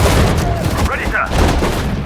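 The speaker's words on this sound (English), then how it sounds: "Hurry up! Fire the gun!" Gunfire and booms from the Sudden Strike 4 World War II strategy game, Battle of Ypres near Dunkirk, heard as dense rumbling shots and blasts under commanding voices calling out orders.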